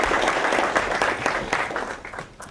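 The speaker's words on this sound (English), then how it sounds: "let's give him a round of applause" An audience at a tech conference talk applauds with dense, steady clapping that gradually fades out over a couple of seconds.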